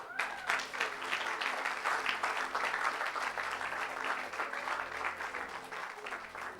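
Church congregation applauding and cheering the Lord after a deliverance prayer: steady, dense clapping from many people throughout, with crowd voices blended underneath.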